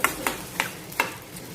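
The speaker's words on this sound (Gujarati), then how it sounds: "તો હવે ભીંડાને વઘારમાં એકવાર સારી રીતે મિક્સ કરી દેવાનું છે, એટલે કે તેલ અને લસણનું કોટિંગ બધા ભીંડા ઉપર સારી રીતે કરી દેવાનું છે" A spoon stirs sliced okra in hot oil with garlic tempering, making four crisp scraping strokes at an uneven pace over a soft background sizzle, close up with no talk.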